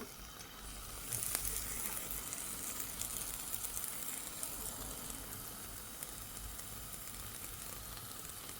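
Dried fish fries in a pan with a faint, steady sizzle and hiss, one small clink early on, and no talking.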